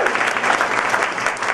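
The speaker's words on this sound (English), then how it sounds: "Big applause to you guys." Dense, steady applause from an audience gathered for a Pecha Kucha evening presentation night in Worcester, many hands clapping at once in a continuous wash that holds loud and even throughout.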